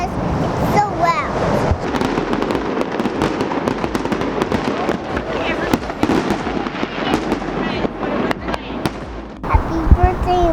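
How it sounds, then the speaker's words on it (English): Fireworks bursting by the waterfront on the Fourth of July, a steady barrage of loud cracks and booms with whistles, wind buffeting the microphone and voices talking nearby. "Why don't you like fireworks? Because it's so loud."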